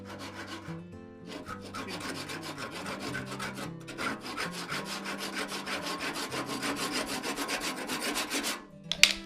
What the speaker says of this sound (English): I'm scraping it